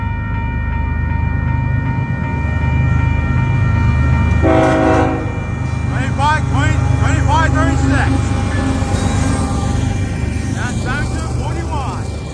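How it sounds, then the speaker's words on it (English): A westbound intermodal freight train with two units bound for Long Beach rumbles past at Arlington, its multi-tone horn blaring in a loud, sustained blast over the heavy rolling rail noise, with voices talking over it. "here comes the Long Beach bound intermodal train"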